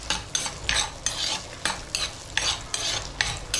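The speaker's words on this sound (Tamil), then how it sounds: "இந்த வெங்காயம் வந்து நல்லா வதங்கி வேகணும்." Onions sautéing in a pan, rhythmic spatula stirring strokes roughly every half second over a continuous close frying sizzle.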